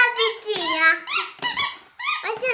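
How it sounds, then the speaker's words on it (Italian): A squeaky dog toy squeezed repeatedly at home, giving bursts of high, wavering squeals in an uneven rhythm, loud and close, with a voice faintly mixed in. "Quello che sentite è il gioco del cane."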